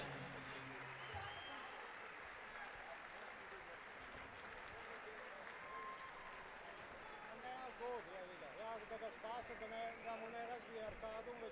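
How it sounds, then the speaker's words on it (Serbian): Arena crowd applauds an MMA fighter at a Megdan fight event: a sustained, dense roar of clapping from a large audience for about eleven seconds, with a voice speaking over it. "aplauz za ovog velikog borca i velikog sportistu, Sama Tamelbekova."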